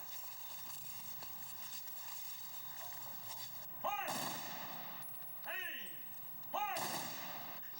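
Three sharp rifle volleys of a funeral salute ring out a second or two apart, loud and close, each echoing away over a steady background murmur.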